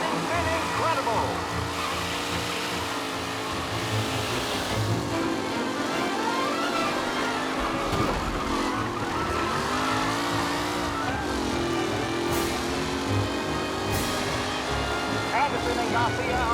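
Race cars on the final lap in Mafia Definitive Edition, engines roaring loudly and continuously with rising and falling pitch as they rev and shift, occasional tire squeal, and a voice talking over the engine noise.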